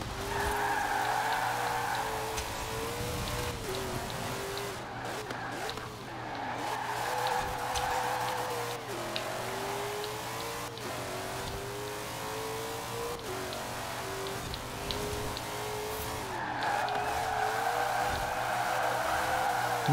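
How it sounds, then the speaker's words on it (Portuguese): A Ford GT40 in the racing game Forza Horizon 4, set to four-wheel drive, drifts with continuous tire squeal and a revving mid-pitched engine that rises and falls across repeated slides, loud and steady throughout. "Nossa, que drift bonito"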